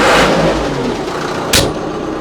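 A Skaut tractor engine starts and revs, a steady close rumble with a sharp click partway through.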